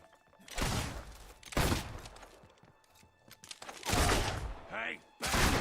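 Gunfire and combat in the video game Fable 2, heavy bursts of shots and impacts arriving in loud waves with short lulls between, plus a brief high voice cry near the end.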